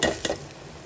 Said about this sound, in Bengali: আমি চাউলটা দিয়ে দিচ্ছি চাউলটা একটু ভাজা ভাজা করে নেব